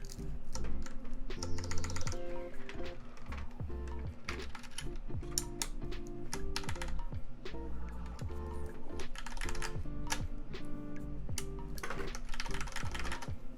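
Rapid typing on a custom mechanical keyboard with a brass plate and Korean-style keycaps, with dense, continuous clacky keystrokes and some louder bursts, steady and close throughout with music underneath.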